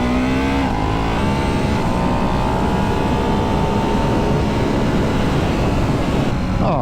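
A Ducati 698 Hypermotard single-cylinder motorcycle revs hard on an open road, its engine note climbing and sweeping through the gears in a loud, continuous rasp with wind rush underneath and no voices.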